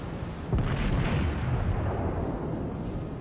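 The battleship Colorado fires its main guns in the World of Warships naval battle game, a broad booming salvo swelling and rumbling for a couple of seconds before fading into steady background noise.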